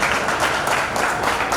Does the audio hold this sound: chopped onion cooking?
no